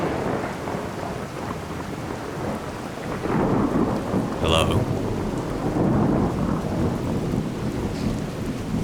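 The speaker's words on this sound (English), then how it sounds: "It's a rainy day." Steady rain falls in a Skyrim storm as thunder rolls through the whole stretch, with a louder crack near the middle. One voice speaks a short word over it.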